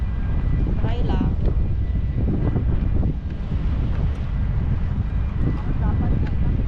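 Strong wind buffets the microphone in a continuous low roar, with a person talking over it at times.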